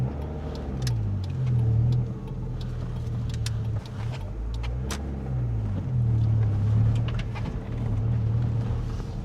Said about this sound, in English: So lots of cars on the street.